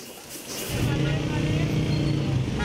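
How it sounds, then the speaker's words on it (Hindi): City traffic noise: after a brief quieter start, a heavy, steady rumble of engines swells in and holds, close and loud. "शोर की सबसे बड़ी वजह बेहंगम ट्रैफिक है।"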